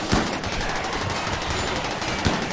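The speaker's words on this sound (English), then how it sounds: "Yep, that's what the heavy charge blasters do." Heavy charge blasters fire in a RimWorld battle: a dense, continuous rattle of rapid energy shots with a couple of sharper bursts standing out, loud and without talk.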